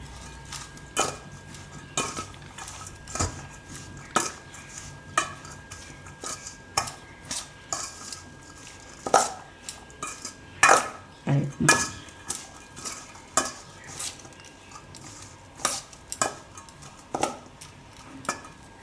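Roasted spices and fenugreek seeds being stirred together in a bowl for carrot and radish chutney, a series of regular clinking and scraping strokes against the dish, close and moderately loud throughout.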